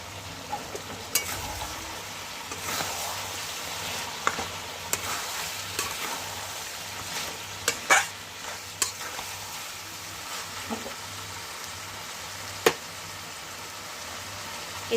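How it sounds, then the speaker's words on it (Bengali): Ginger garlic paste fries in a pan for a chicken curry with fenugreek greens, giving a soft, continuous sizzle under scattered scraping and knocks from a stirring spoon, close by and without speech. "এবার একটুখানি নেড়েও নিয়েছি আদা রসুন বাটাটা দিয়ে"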